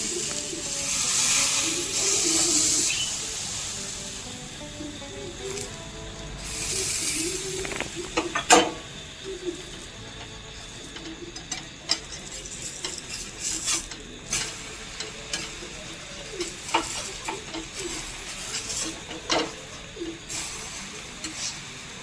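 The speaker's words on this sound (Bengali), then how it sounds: "এর উপর থেকে ঠান্ডা করে রাখা গরুর দুধটা দিয়ে দিচ্ছি" Cold cow's milk hits golden fried bread on a hot griddle, giving off loud bursts of hissing sizzle that ease into a softer, uneven crackle with scattered small clicks.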